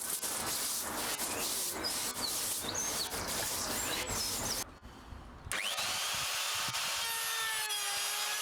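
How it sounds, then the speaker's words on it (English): Plastic lumber being cut to final size and routed with bolt pockets, a loud, steady power-tool whine with rough cutting texture that drops out briefly mid-way, then resumes with a higher, smoother routing tone. "Here I'm cutting the plastic lumber to final dimension and routing some pockets for the bolts"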